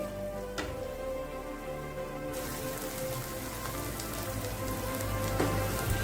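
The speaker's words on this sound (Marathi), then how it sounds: "याला छान मंद आचेवर लालसर होईपर्यंत थोडा कलर येईपर्यंत याला भाजून घ्यायचं आहे" Steady frying crackle of sweet potato sheera roasting in a pan over a low flame, continuous and close with no speech.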